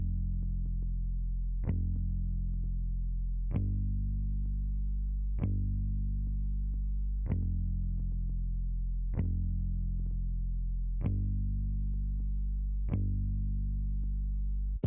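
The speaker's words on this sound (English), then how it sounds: "It's just a simple guitar bass." A deep, distorted bass guitar plays sustained low root notes, changing pitch roughly every two seconds in a steady, even pattern with no voices.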